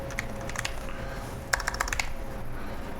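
Fast typing on a sensitive computer keyboard, a light patter of key clicks followed by a quicker cluster of sharper taps, close and fairly quiet over a low background hum.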